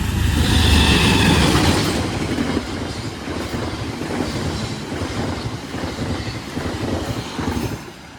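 The Kuto Jaya Selatan extra passenger train pulls out late, a loud rumble easing into steady clickety-clack of wheels on rail with occasional faint squeals.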